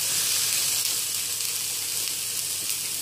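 Vegetables seasoned with salt sizzle in a pan for a vegetable pasta sauté, giving a close, steady, bright hiss throughout with no speech.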